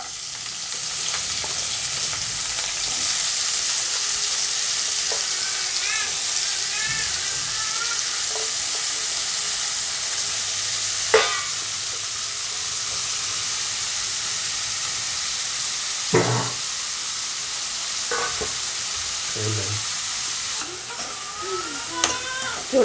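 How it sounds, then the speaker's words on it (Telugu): Dry prawns frying in a pan, a steady loud sizzle and hiss running throughout, with occasional clinks and scrapes of stirring and no talking. "ఇప్పుడు మనం ఇవి వేయించుకుందాము"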